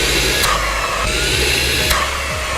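A Hitz Professional HB-5677 20-volt cordless brushless vacuum cleaner runs with a steady high-pitched motor whine and airflow hiss, close and continuous.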